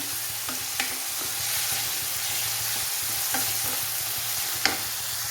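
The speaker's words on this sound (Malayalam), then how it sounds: "നമ്മുടെ സവാള ഏതാണ്ട് വഴന്ന് വന്നിട്ടുണ്ട്" Sliced onions sautéing in a pan for chicken perettu, a steady close sizzle with occasional sharp spoon taps and scrapes against the pan; no one speaks.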